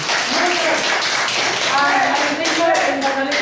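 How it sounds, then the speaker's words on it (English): Students in a classroom give their reporter a round of applause, a dense, even patter of many hands clapping close by, with young voices chattering underneath. "will you please give a round of applause to our reporter?"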